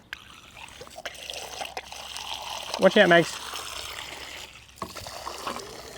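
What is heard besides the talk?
pump running water into a garden sprayer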